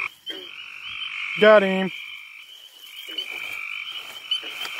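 Bullfrogs croaking at night during frog gigging, one loud deep resonant croak up close among fainter calls, over a constant high insect drone, with a voice speaking briefly.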